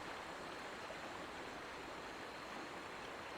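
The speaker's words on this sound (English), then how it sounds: "Go to the riverbank and dip your water skin into the cool water" Steady rushing river water in the video game Pillars of Eternity as a water skin is dipped, a continuous even wash of flowing water with no other sounds.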